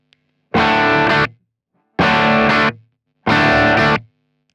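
An electric guitar played through drive and compressor pedals sounds three sustained, distorted chords, each ringing about a second with short silent gaps between them.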